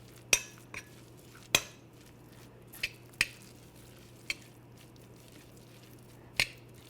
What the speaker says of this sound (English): And then we're going to stir this all together and make sure it's well combined.